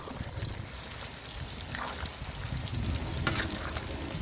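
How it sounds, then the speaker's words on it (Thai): Marinated pork ribs fry in a pan with a continuous close sizzle and crackle, a few brief spatters and a light scrape partway through, and no one talking. "เวลาทอดเนี่ยไม่ติดกระทะเลยนะครับ"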